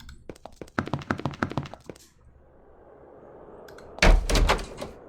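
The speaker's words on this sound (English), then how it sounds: "Behind you, a section of the wall drops into the floor, revealing a wall of flame." A stone wall section in Avernum II dropping into the floor, a heavy grinding rumble and thud arriving near the end after a run of sharp taps and a quieter hiss.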